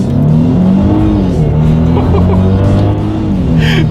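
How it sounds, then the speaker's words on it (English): A 2018 Mercedes-Benz E400 coupe with a twin-turbo V6 accelerates hard under automatic shifting, its engine drone rising in pitch, dropping at shifts and climbing again, loud and close from inside the cabin. "Now let's do a quick little acceleration with the car dictating when to shift."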